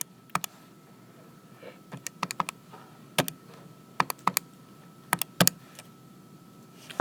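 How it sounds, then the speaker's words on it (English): Fingers pressing keys on a calculator, giving sharp, close plastic clicks in irregular clusters and single taps over a quiet room, with no talking. "So when I type that in my calculator,"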